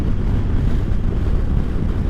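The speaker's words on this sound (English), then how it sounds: "We're under a pretty high wind advisory today" Strong autumn wind under a high wind advisory in Michigan buffets the microphone with a loud, continuous low roar and gusty rumble, with no voices.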